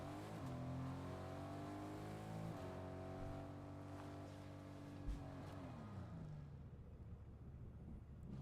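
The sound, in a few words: car driving in Fortnite video game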